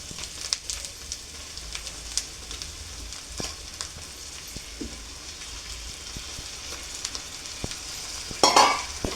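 Fish pieces for a tamarind fish curry frying in a pan and being stirred, a soft steady sizzle with scattered scraping clicks of the spoon and a brief busier burst near the end.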